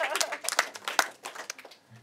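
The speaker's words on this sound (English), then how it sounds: "Now clap for all of us." Scattered, uneven clapping comes from an audience at a talk on the right to education. The claps are moderately quiet and short, with faint voices mixed in.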